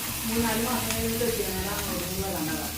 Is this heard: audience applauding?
no